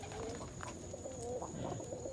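Pigeons in a loft, including a brown bar hen, give soft low cooing calls, a few murmured coos over a steady background hum.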